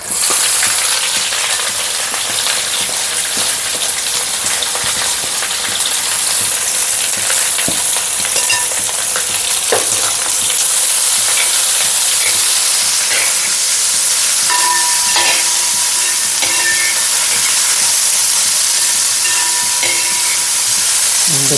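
Onions frying in oil with dried red chilies, a loud continuous sizzle and hiss with occasional stirring clicks and scrapes throughout, no voices.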